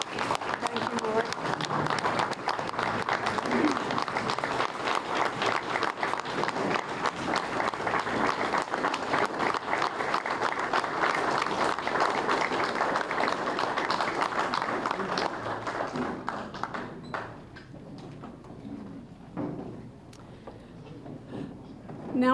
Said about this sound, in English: One more round of applause for our World War II veterans.